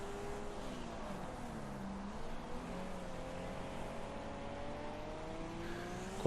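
Killer Pig race car in Wreckfest, an engine whining through gear changes with pitch sweeps rising and falling, a steady racing drone under faint tire noise, no talk.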